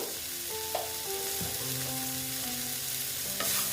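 Ground coriander, cumin, turmeric and chilli powder being stirred in a frying pan for egg chops, a steady sizzle with a few scraping strokes of the spoon, close and moderately loud, no voices.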